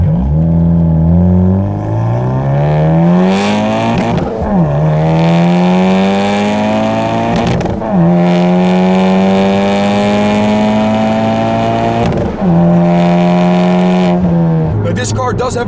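A turbocharged 2017 Honda Civic Type R (FK8) with an HKS exhaust revs hard through several rising gear pulls, each climb broken by a brief shift, loud and close throughout.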